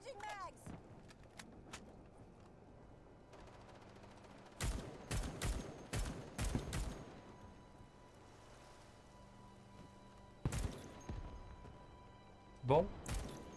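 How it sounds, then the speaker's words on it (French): Heavy bazooka-like weapon fire in Choice Chamber comes as sharp, loud bursts in clusters, a rapid volley mid-way and isolated blasts later, while someone talks quietly in between. "Ah ouais, ça tire en gros bazooka."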